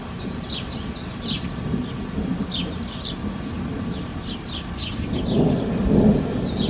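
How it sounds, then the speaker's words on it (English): Low, distant thunder rumbles steadily beneath rain and outdoor ambience, swelling a little near the end, with faint bird chirps scattered above. "Do you hear the thunder?"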